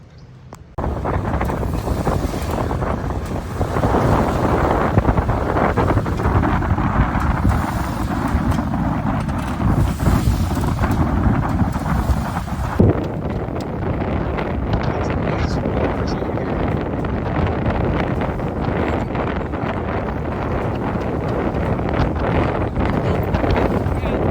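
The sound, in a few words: strong wind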